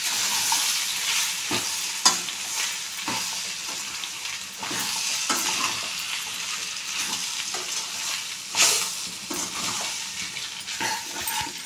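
Pasta being stirred in a frying pan with salt and pasta masala, a sizzling hiss broken by repeated scraping strokes and occasional knocks of the spoon against the pan, close and steady.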